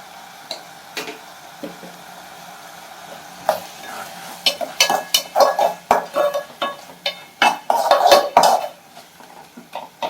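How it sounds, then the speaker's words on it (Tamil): Tomatoes sautéing in a pan for a Tamil egg drop curry, with a soft sizzle beneath frequent metal spoon scrapes and clinks against the pan, growing busier and louder toward the end, no voices. "தக்காளி நல்லா வதங்கிடணும்."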